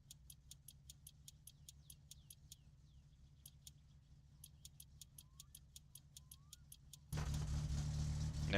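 A car engine in My Summer Car idles with a steady low rumble under sharp repeated ticking, then abruptly revs up loud and rough for the last second or so.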